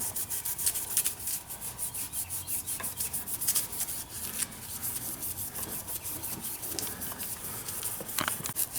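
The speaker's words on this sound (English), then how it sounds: "he's just scuffing this up before we paint it" Abrasive scuffing of taped-up suspension parts for a K-swapped Honda Civic ahead of painting, a steady dry rasping rub that continues throughout at moderate level with no talking.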